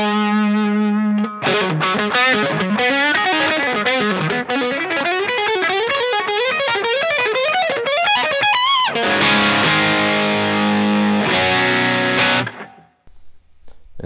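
Distorted electric guitar on a Strat-style instrument, played through the bridge pickup with a spin-a-split coil split for a Tele-like bite. A sustained chord opens, then a busy run of bent single notes, then loud ringing chords that cut off near the end, with no talk.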